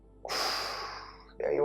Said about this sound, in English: Big breath, squeeze the belly. Exhale.